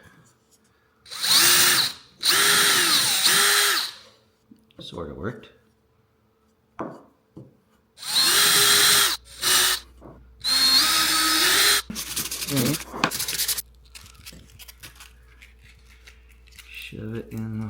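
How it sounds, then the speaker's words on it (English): A power drill bores into a flawed pitcher in several loud bursts of a few seconds each, separated by pauses with brief talk and clatter between them. "Maybe I can make the hole a little nicer by drilling from this side a bit."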